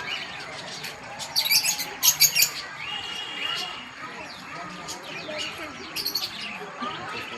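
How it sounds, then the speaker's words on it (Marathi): Green parrots chirp at a zoo in short bright bursts, with a cluster of calls early on and another a few seconds later, set against a busy background where voices can be heard. "आता बघा इकडे ना ग्रीन ग्रीन असे रंगाचे पोपट आहे बघा."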